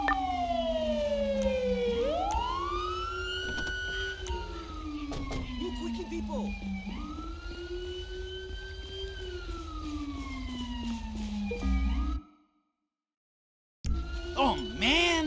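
Ambulance siren in the video game GTA 5, a loud wailing tone sweeping up and down repeatedly under traffic noise, then cutting out briefly before resuming.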